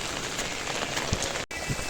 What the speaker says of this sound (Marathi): अजून पाऊस चालू झाला जोरात